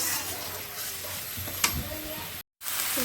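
Spices frying in hot oil for a cauliflower curry give a steady, close hiss of sizzling, broken by one sharp clink and a brief silent gap near the end.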